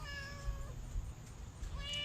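A friendly cat meows at close range, voicing two drawn-out meows, one at the start and another near the end, over a steady low background hum.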